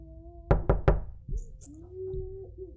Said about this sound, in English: I don't like knocking.